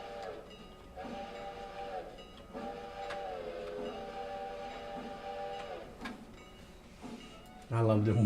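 A locomotive whistle in the railroad video game Railroader sounds in several sustained, harmonically rich blasts over a low rolling rail-engine background, separated by brief gaps and mechanical clanks, ending on a sudden louder rumble.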